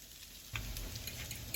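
Beef sirloin dropped into a hot stir-fry pan with red and green bell peppers, a sudden sizzle that starts after a quiet moment and then keeps crackling steadily, faint and close.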